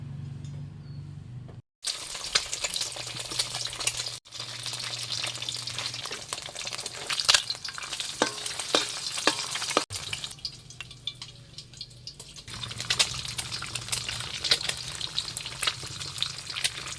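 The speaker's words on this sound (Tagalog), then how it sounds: "Kaya kasi yung hotdog na ikot-ikot na sa mantika, gusto ko medyo toasted." Hotdogs fry in oil, being turned until toasted. A close, continuous crackling sizzle runs throughout, broken by brief gaps and scraping stir sounds.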